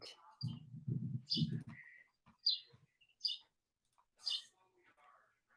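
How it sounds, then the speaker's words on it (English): A bird chirps indoors during an online meeting: several short, high, bright calls spaced irregularly. A brief low murmur comes early, then near-quiet between the calls. "I hear a bird."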